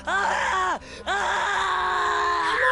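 Ron screaming in pain in the Harry Potter and the Prisoner of Azkaban PC game, a loud, sustained anguished cry that breaks off briefly and resumes, rising at the end.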